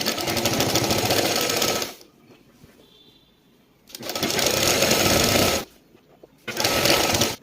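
Three loud, close bursts of a sewing machine stitching kurti fitting seams along marked lines, each lasting a couple of seconds and separated by short quiet gaps.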